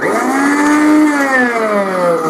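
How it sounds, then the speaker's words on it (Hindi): A repaired electric mixer grinder runs on its own, its motor giving a loud, steady whine that sags slightly in pitch as it spins, with a faint hum underneath. "देखिए दोस्तों मिक्सर ग्राइंडर एकदम सही हो चुका है।"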